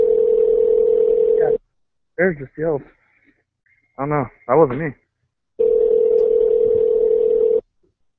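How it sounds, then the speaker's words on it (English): Two long, steady telephone tones sound on a phone call, one at the start and one near the end, each lasting about two seconds, with a short stretch of talking between them. "I hear a phone ringing in the..."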